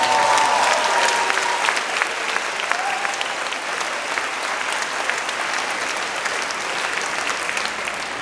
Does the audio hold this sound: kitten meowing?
no